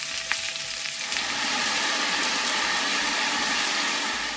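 Mushrooms browning in a frying pan, a steady close sizzle and spatter of frying that grows fuller after the first second and holds evenly, with no talking.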